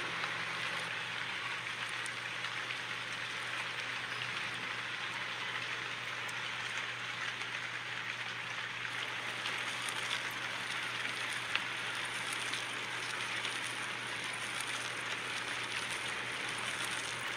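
Continuous, even hiss of rainfall with a faint low hum underneath, steady throughout with no voices.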